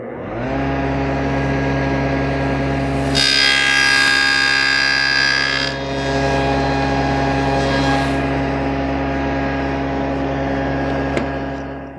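A SawStop table saw makes a pass cutting a box joint in a board clamped to the miter fence. The motor hums loudly and steadily throughout, and a brighter, harsher cutting whine rises for a few seconds in the middle before easing back to the running hum.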